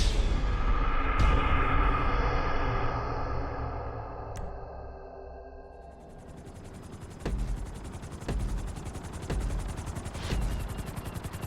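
A helicopter flies in the video game GTA 5, heard as a loud, continuous rotor roar with a series of sharp, evenly spaced bangs over its second half.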